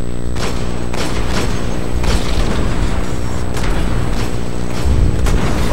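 Heavy booming shots from a Freight Bringer gun in the Destiny video game, a series of loud blasts over a steady, dense background of game noise.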